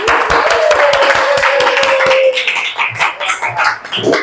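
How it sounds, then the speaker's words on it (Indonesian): Students in a 9th-grade science classroom clap their hands together in a brisk, steady burst of rhythmic claps that fades into a few scattered claps and murmured voices. "tepuk tangan dulu untuk kita"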